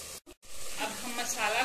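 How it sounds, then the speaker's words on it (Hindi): Masala with red chilli powder and coriander powder frying alongside onions in a pan for a chicken masala gravy, a steady close sizzle that swells after a short break, with a voice speaking over it. "अब हम मसाला को भी 3 से 4 मिनट तक चलाते हुए प्याज के साथ भून लेंगे।"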